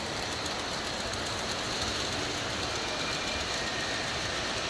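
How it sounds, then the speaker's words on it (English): A model train runs through a Christmas display at the Gaylord Texan, its steady mechanical rumble and whir continuous and even, with no voices. "Look at this, the train."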